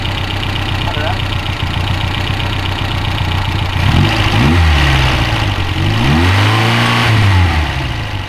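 A 1969 Reliant Regal's small engine runs on test, idling roughly and then revving up twice in swells, close and loud, with people talking over it.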